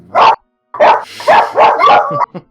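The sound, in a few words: dogs barking in the yard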